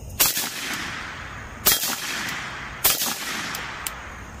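Rifle fitted with a YHM Turbo K flash suppressor firing Wolf steel-case ammunition, three sharp, loud shots spaced roughly a second and a half apart, each with a brief echoing tail, plus a fainter pop near the end.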